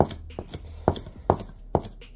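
A Katsumoto nakiri knife push cutting through food on a cutting board, a series of soft, evenly spaced thuds close by, roughly every half second.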